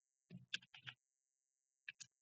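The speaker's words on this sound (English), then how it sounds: "I'm simply typing" Quiet, close keystrokes on a computer keyboard come in two short bursts of rapid clicks separated by a pause, with a faint steady whine beneath and no speech.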